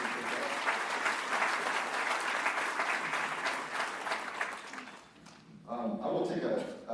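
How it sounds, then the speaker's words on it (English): A seated audience at a quarterly meeting applauds the event's organizing committee with steady, dense clapping that fades after about five seconds, followed by a speaker resuming talk. "so if we can give them a round of applause"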